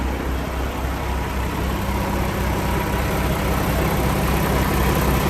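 A 2019 Kenworth T680 truck's Paccar MX-13 455-horsepower diesel engine idles with a steady, loud low rumble and hum that holds unchanged throughout, with no voices.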